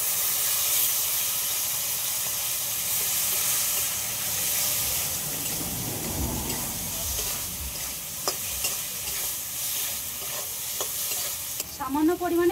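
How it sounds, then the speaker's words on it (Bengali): Mango pieces and spices fry in a pan with a continuous loud sizzle and hiss, stirred with occasional scrapes, steady throughout and ending in a brief clatter. "আমটা একটু হালকা করে ভেজে নেব"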